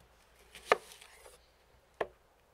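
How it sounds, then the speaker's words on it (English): A knife cuts onions lengthwise on a board for medieval onion soup, giving two crisp, separate chops about a second apart against a quiet background. "We cut the onions lengthwise."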